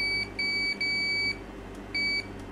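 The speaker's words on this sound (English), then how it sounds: "As you can hear, nice latching continuity buzzer." Continuity buzzer on a Fluke clamp meter sounding a clear high-pitched electronic beep in three bursts of varying length, latching on and off, close and alone over a low background hum.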